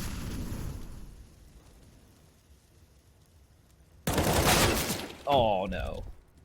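Gunfire in the video game CS:GO during a G2 versus North match on Vertigo, a dense loud burst of rapid shots breaking in after a quieter stretch, followed by another sharp blast, with talk under the early part.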